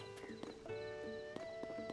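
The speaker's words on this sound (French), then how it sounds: "Mais on a un cheval!" A horse in the video game Zelda: Tears of the Kingdom trots with quiet, evenly spaced hoof clops over soft tonal game music, with no clear neigh.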